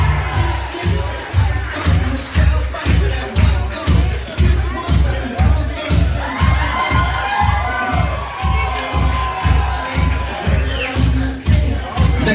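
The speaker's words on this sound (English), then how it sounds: "Let's give a nice warm round of applause for Stephanie Dermeyer and Ryan Deck." Wedding guests cheer and applaud as a couple enters the reception, the crowd noise layered over a loud, thumping, evenly pulsing music beat.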